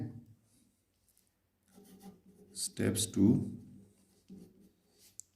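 Construction steps for a right-angle triangle in a geometry lesson written by hand, a soft scratching of pen on paper heard beneath someone speaking Hindi.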